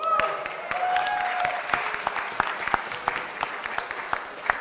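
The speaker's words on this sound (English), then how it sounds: "You applauded." An audience at a club dinner applauds steadily throughout, a dense patter of clapping hands in a room with a few louder individual claps near the end.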